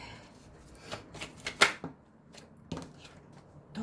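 Tarot cards are shuffled close up, a quiet run of soft riffling flicks and taps in an uneven rhythm, with one sharper snap near the middle.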